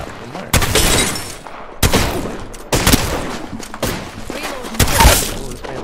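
Video game gunfire erupts in several loud close bursts of rapid shots, separated by brief pauses, with faint background voice.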